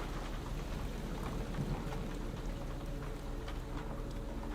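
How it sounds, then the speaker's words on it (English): Steady live rain falls throughout, a dense continuous hiss with scattered drop patter and a low rumble, fairly loud and with no voices. "the rain sounds so nice"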